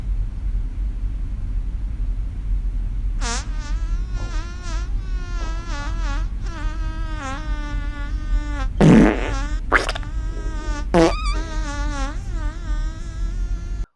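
Comic fart sound effects, a string of buzzy, wavering blasts with several short sharp bursts near the end, heard without speech over a steady low hum.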